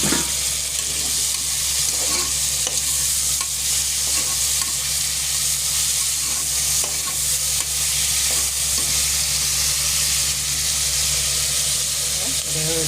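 Vegetables sauté in a pan for a green gram rice dish, a steady, loud frying sizzle with stirring that runs unbroken throughout, with a constant low hum beneath.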